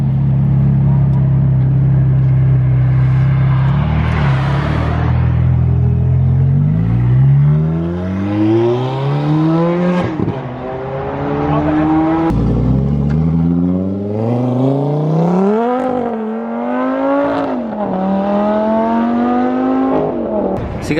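A Ferrari and other cars accelerate hard away from a car meet, engines revving loudly and rising in pitch through repeated gear changes, close and sustained throughout.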